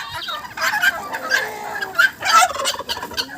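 Turkeys gobble in several quick, close bursts, with guinea fowl and other farmyard fowl clucking around them.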